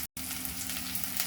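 Slit green chilies and garlic sizzle steadily in hot tempering oil, a continuous close frying hiss with a brief gap near the start and no voices.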